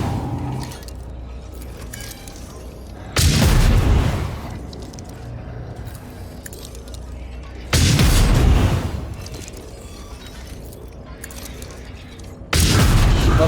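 Ship weapons fire during space combat in Warhammer 40K Rogue Trader, three heavy booming volleys spaced several seconds apart, each a loud rumbling burst that fades over about a second.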